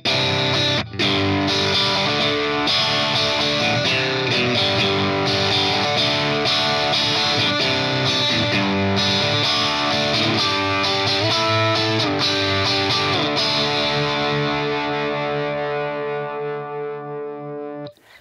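An electric guitar played through an H&K Tubemeister Deluxe 20 valve amp, taken from its Red Box output, sounds thick and distorted with effects; dense chords and riffs continue for about eighteen seconds before fading out at the end.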